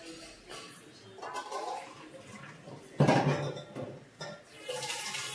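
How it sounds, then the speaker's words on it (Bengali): Kitchen tap water runs into a bowl of cold water for soaking a boiled egg, an uneven rushing pour mixed with clinks of dishes, swelling into a louder splashing burst midway. "আমি ডিমটা একটু ঠান্ডা জলে ভিজিয়ে রাখি কিছুক্ষণ খাওয়ার পর।"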